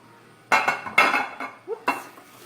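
A cooking pan for shepherd's pie is handled in a kitchen: a few close, sharp metallic clanks and clinks come in irregular bursts, with quiet pauses between them.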